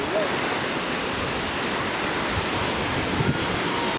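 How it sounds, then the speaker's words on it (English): A hidden waterfall rushes as a loud, steady roar that fills the whole scene, broad and unbroken, with brief voices faintly audible over it. "There's the waterfall."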